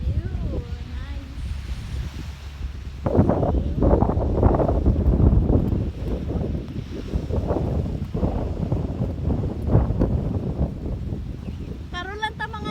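Strong wind buffets the microphone aboard a ferry, a steady low rumble with gusts that swell and fall throughout, heard alongside talk and engine or water noise.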